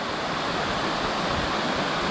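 Fraser Falls, a tall stepped cascade, roars as a steady, dense wash of falling water heard close and loud with no other sounds over it.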